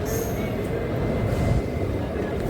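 A crowded local passenger train on the Kannur to Mangalore line rumbles into a station platform, with a continuous low, heavy roar of wheels and carriages throughout.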